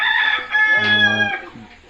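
A rooster on a small backyard poultry farm crows loudly and close by, giving one long drawn-out crow and then a shorter trailing note, with no voices.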